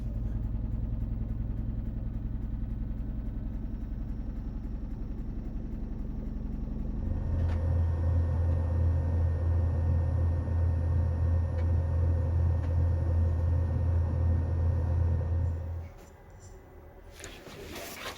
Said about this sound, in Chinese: 现在是洗衣服的声音。